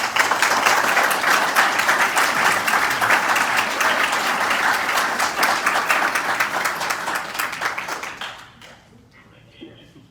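Audience applause at a university police swearing-in ceremony, a loud, sustained round of clapping from a seated crowd that fades out near the end.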